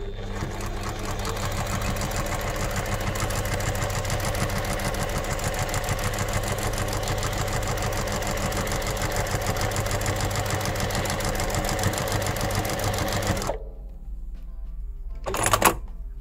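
A Juki TL 2020 Platinum Edition sewing machine runs in a long, steady, fast needle clatter with a low motor hum, close and loud, then stops near the end, leaving a short quiet stretch and one brief mechanical click.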